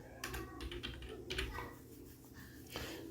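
Quick bursts of keystrokes on a computer keyboard, close and fairly quiet, clattering in short uneven runs with brief gaps between them.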